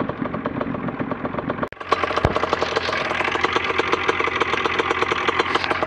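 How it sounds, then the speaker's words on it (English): An ultralight aircraft engine idling just after a cold start, with a steady, rhythmic, slightly clattering beat. A sharp knock breaks in near the start, and the idle then settles a bit louder. "Engine fires right up, idles away."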